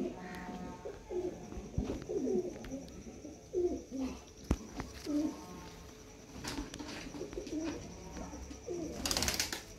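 Shekhan pigeons with red markings coo close by in soft repeated throaty phrases, joined by other birds in the background and a sharp burst of noise near the end.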